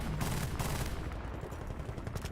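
Rapid bursts of automatic gunfire in the video game Battlefield Bad Company 2, dense, loud cracking shots repeating through the whole moment with no talk over them.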